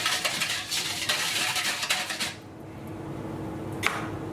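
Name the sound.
stirring olive oil, sugar and dry yeast in a bowl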